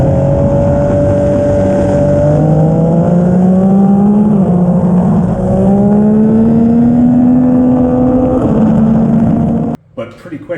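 A Kawasaki Z900 and a Yamaha MT-09 accelerate hard together, their engine notes climbing steadily in pitch as they pull away, loud and close, then cut off abruptly near the end.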